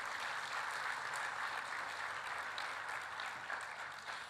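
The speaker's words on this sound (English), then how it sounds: "Let's give him a round of applause as he comes." Audience applause at a women's finance summit greets a panelist, from the Access to Finance Rwanda CEO, walking on: a steady, dense wash of clapping that holds through the whole stretch and eases slightly at the end.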